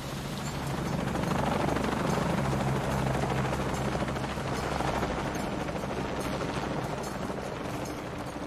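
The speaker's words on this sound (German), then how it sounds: "Dann auf geht's nach oben zum Hubschrauber." A helicopter in the Shadow of the Tomb Raider video game drones steadily with a loud, close, continuous rotor chop that swells slightly and holds throughout.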